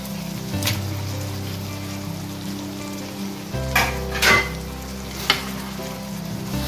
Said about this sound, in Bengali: এখন আমি শুটকি আর মাছটা এখানে একটু ভালো করে কষাই নেব